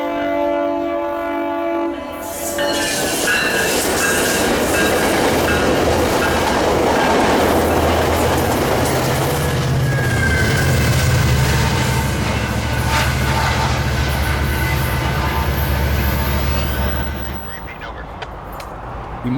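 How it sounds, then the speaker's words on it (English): A northbound Sound Transit Sounder shuttle train running for a Mariners game passes close by, horn sounding, a loud sustained rumble and wheel noise building and then fading near the end. "to catch the northbound Sound Transit Mariner shuttle train"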